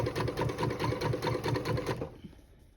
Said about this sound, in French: La machine, elle fait un petit peu plus de bruit que d'habitude,